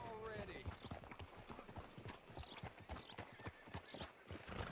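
Horse hooves clip-clop steadily on the ground in Red Dead Redemption 2, a close walking rhythm of many hoofbeats heard under spoken game dialogue, with a brief whinny near the start.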